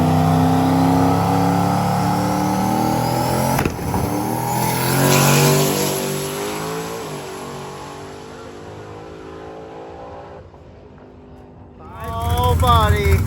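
A drag racing car built for eighth-mile runs on small tires, with a loud engine holding and climbing in pitch through repeated gear changes. It fades away, then a second loud revving burst comes at the end, with voices mixed in.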